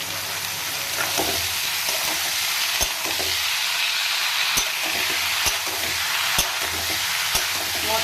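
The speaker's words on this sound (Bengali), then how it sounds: "মশলাটা কষাইতে কষাইতেই আমি এর মধ্যে মোচাটাকে ছাইড়া দেবো" Banana flower (mocha) frying in cooked-down spice paste for a prawn dish, a steady broadband sizzle with the occasional sharp tap of a utensil stirring the pan, close and continuous with no talking.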